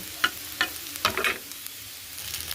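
Egg frying in a pan beside browned fried potatoes, a few sharp crackles and pops over a low, quiet sizzle, close and with no talk.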